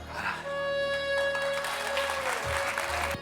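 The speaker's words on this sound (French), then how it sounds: "On l'applaudit très fort." Applause from an audience at a French stage hypnosis show, a broad clapping wash that carries on steadily while a tonal music bed and faint background voices sit beneath it.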